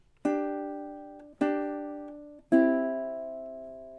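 Three strummed ukulele chords ring out one after another, each left to decay, from measure 13 of the Jamaican folk song Day-O (The Banana Boat Song), played in time and heard alone.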